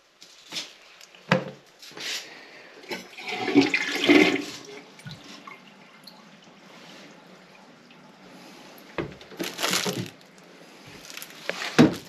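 A household toilet flushes with a gushing rush of water followed by trickling and dripping in a small bathroom, moderately loud with a few bumps and clicks, no talking.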